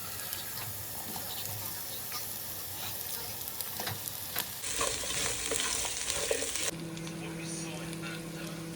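Sliced onions are tossed into a pan where small shallots are already softening over medium flame, giving a steady sizzle and scraping stirs, with a burst of running tap water partway through and someone talking over it.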